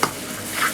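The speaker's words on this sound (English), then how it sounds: "I want to cook off all of that raw garlic, ginger, shallot, and that chili" Garlic, ginger, shallot and chilli sizzling and being stirred in a pan for crab, a brief close crackle with a scrape of utensil against the pan.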